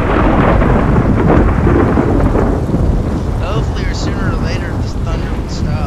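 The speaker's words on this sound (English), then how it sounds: "sooner or later this thunder would stop." Loud continuous thunder rumbles through a stormy scene in Hitman: Absolution, with rain hiss underneath and short chirping sounds near the end.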